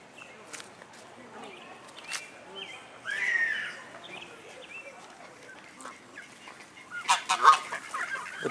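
Ducks in Winston-Salem calling outdoors, several honking quacks scattered over the stretch with a busier burst near the end, mixed with footsteps and some background voices.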